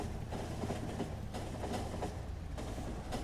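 Trains roll along rails in the game Factorio, lining up to enter a station. The result is a steady low rumble with faint clickety-clack, continuous and moderately near, with no talk.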